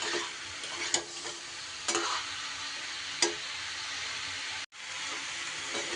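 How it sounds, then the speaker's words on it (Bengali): Vegetables and spices stir-fried together in a pan, a steady sizzle with a few sharp scrapes of the spatula, heard close and with no voices. "সুন্দর করে মশলার সাথে সব সবজি আমি মিশিয়ে একটু সময় নাড়াচাড়া করে ভেজে নেব"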